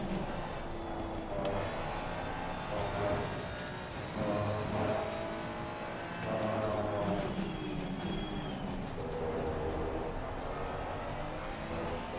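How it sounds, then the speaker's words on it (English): Race car engine in Assetto Corsa Competizione at the Valencia circuit, a steady low drone with occasional rising revs, fairly faint and distant-sounding, with no voices. "Listen to the car heading sector 1."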